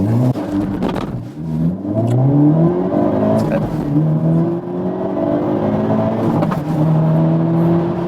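A 2022 Hyundai Elantra N engine roars as it accelerates hard from a standstill, rising in pitch through several gear changes, loud and close throughout.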